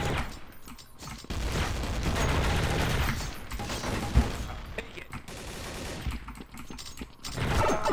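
Sustained automatic fire from a P90 submachine gun in the video game Counter-Strike: Source, a dense rattling burst lasting several seconds with brief gaps and other game noises mixed in, loud and close.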